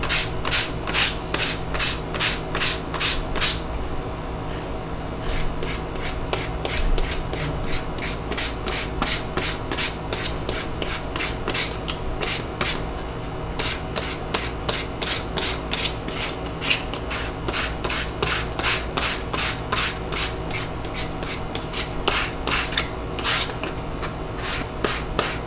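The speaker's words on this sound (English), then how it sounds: "During damp sanding, sand all the same direction." Damp sanding along the edge of a leather sleeve for an iPhone 6, close and clear, with rapid repeated rasping strokes all in one direction, a steady rhythmic scratching that continues throughout with no talk.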